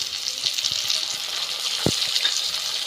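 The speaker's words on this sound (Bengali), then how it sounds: "এবার টমেটোগুলো কিছুক্ষণ ভেজে নিতে হবে।" Chopped tomatoes and onions sizzle in a pan with goat fat for ghugni, a steady close hiss of frying with a few light stirring scrapes and taps.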